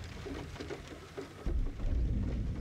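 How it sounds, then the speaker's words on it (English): Rain in the video game GTFO falls as a dense, steady hiss with low rumbling underneath, swelling louder halfway through. "Oh, there's like rain."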